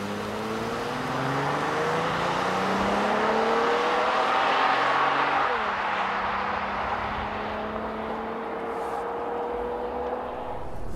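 A 2014 Honda Pilot AWD accelerating hard from a standstill toward 60 mph, its engine note climbing steadily, dropping at a gear change midway and then rising again, heard loud from inside the cabin.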